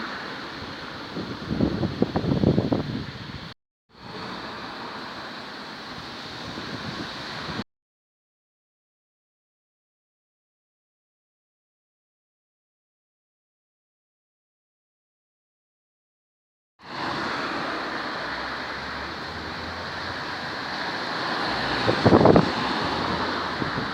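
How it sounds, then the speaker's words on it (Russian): Fierce gusty wind batters an outdoor garden in Taganrog, a loud, rushing roar with microphone buffeting heard in two stretches around a long silent gap. "Ой, ветер какой жуткий ветер"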